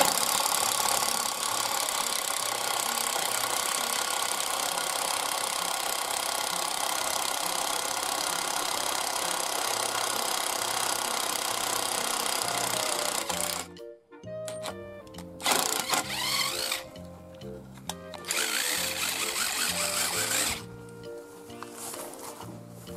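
A power drill bores holes in wood for the roof of a homemade pizza oven, a loud steady whirring drone running continuously for about fourteen seconds before breaking into short, uneven bursts as the bit stops and restarts.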